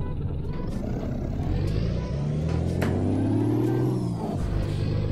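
In Euro Truck Simulator 2, a truck's engine drones steadily as it slows and brakes, with a rising whine and an air-brake hiss near the end, while someone talks over it.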